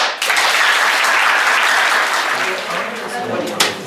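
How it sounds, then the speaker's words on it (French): A classroom audience claps and cheers in a lively burst of applause that tapers off after a few seconds, with voices mixed into the clapping. "on applaudit"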